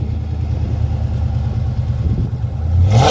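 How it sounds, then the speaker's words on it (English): A 416 stroker LS3 V8 with new headers idles with a loud, lumpy rumble close by, then rises into a quick rev at the very end. "Let's get a little rev."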